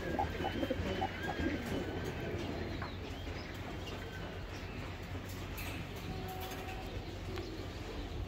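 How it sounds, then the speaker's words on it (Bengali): Pigeons coo softly and repeatedly in a loft, with faint chirps over a steady background hum. "তো এখানে আরেক পেয়ার কবুতর দেখাইলাম।"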